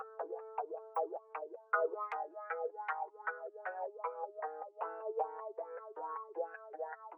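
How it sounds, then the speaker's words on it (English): A keyboard synth line in a dark trap beat plays a quick rhythmic run of short plucked notes, repeating steadily, with phaser and flanger effects giving a swirling, bouncing sheen. Cut highs and lows leave it mellow and fairly quiet, with no voices. "Next thing I added this little keyboard."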